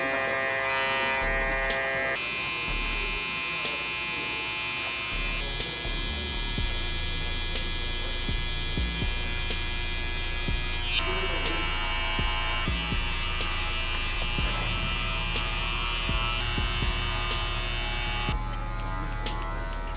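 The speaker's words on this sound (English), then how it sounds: "So now you know exactly how high up to take the shaver." An electric hair clipper buzzes continuously up close, its steady hum shifting slightly in tone as it moves through hair.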